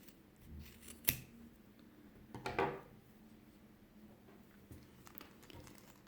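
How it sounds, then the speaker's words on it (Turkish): Scissors snip through a macramé keychain cord at its knot, one sharp cut near the start followed by a second crunchy snip, close and quiet in an otherwise still room. "Ben şu düğümün olduğu yerden keseceğim."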